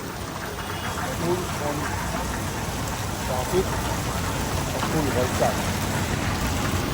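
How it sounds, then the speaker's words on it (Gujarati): Steady rain pours down on a road with water streaming along it, a dense, even hiss, with faint voices mixed in beneath the downpour. "ગમે તેટલો વરસાદ વરસે"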